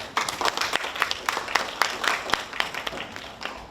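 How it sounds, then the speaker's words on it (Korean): Audience applause at a panel debate on the working conditions of parcel delivery drivers in Busan: a room of people clapping together, dense and steady for a few seconds, heard from within the hall. "이 자리에 참석하신 모든 분께 감사의 박수 함께"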